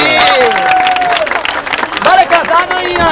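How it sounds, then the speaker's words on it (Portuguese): Audience applause and cheering at a televised stage comedy show, a short burst of clapping mixed with shouts and voices, fairly loud and close. "Palmas para a Folha do Valentina"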